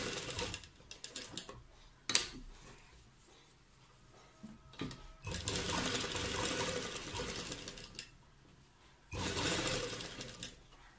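A sewing machine stitching along a neckline, running in several bursts of rapid mechanical stitching separated by quiet pauses and soft handling clicks, fairly close and moderately loud during each run.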